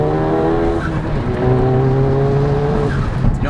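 Porsche GT3 RS engine on a test drive, heard from inside the car as a loud, steady harmonic drone that rises in pitch partway through, with faint tire and road noise underneath.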